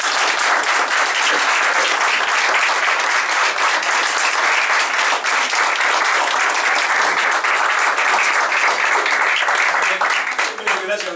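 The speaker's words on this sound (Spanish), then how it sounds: "Un aplauso para los mozos." Sustained, dense applause from an audience at a political gathering, steady and loud for the full length, tapering slightly at the very end.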